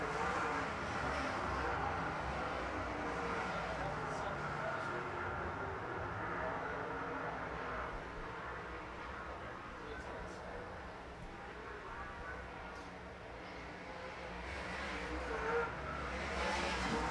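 Late model race cars roar around an Arizona speedway oval during an SWDRA heat race, a steady loud engine drone filling the whole stretch with a commentator talking over it.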